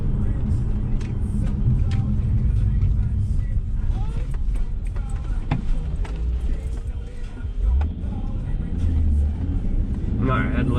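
A passing car drives by on the winding US 129 Tail of the Dragon road, heard as a steady, loud rumble that swells and fades over about ten seconds, with no talking.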